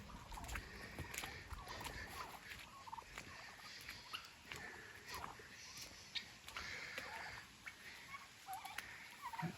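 Wild turkeys call repeatedly by a rain-soaked creek, their rough gobbling bursts carrying at a moderate distance over steady outdoor ambience, with no voices.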